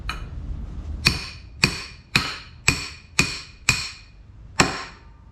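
A hammer strikes to chop lamb for curry in a backyard, landing seven sharp, ringing blows at a steady pace, close and loud, with no talking.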